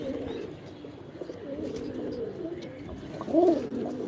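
A female pigeon coos in a deep, male-like voice, a low rolling call over a background of other pigeons' soft murmuring, with one louder coo near the end.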